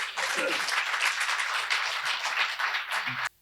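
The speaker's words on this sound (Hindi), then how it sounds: "एक बार जोरदार ताली इनके उम्र को देखते हुए।" Loud, continuous applause from a poetry recital audience at a kavi sammelan and awards ceremony, with dense, steady clapping that runs for about three seconds and then stops abruptly.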